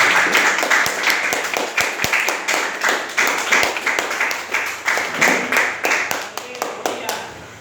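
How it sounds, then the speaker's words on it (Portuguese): A church congregation claps hard and steadily at a church inauguration service, dense rhythmic hand claps from many people filling the room, loud and close, with no talk over it. "aplauda Jesus bem forte"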